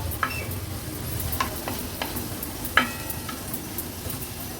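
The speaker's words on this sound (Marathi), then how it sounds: "आता कांदा आपल्याला लो टू मीडियम फ्लेमवर छान शिजवून घ्यायचा आहे" Onion with green chili and crushed ginger garlic sautéing in a pan over low to medium flame, a soft sizzle broken by sharp scraping clicks of a spatula stirring at irregular intervals, close up with no voices.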